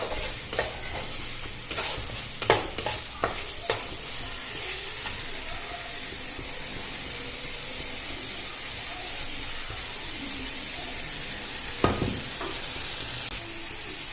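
Cashew paste sizzles in hot oil in a pan, a steady hiss under repeated sharp scrapes and clinks of a spoon stirring, close up with no voices, the stirring busiest early on.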